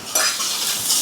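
Onions sizzle and hiss in a hot pan on a home stove, a steady close frying crackle with a brief stirring scrape, loud and alone without talk.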